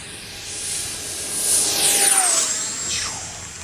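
A Yak-130 RC model jet screams past at full throttle, its whine rising and sweeping down in pitch as it passes close by, then fading.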